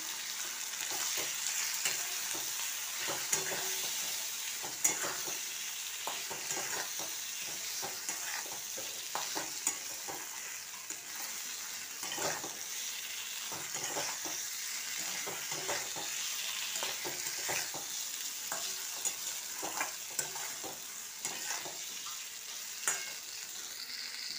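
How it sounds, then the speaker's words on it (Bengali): Turmeric and salt spice paste frying in a pan, stirred steadily with repeated scraping strokes over a continuous close, moderate sizzle, no talking. "এবার মশলাটাকে আমি খুব ভালো করে নাড়বো।"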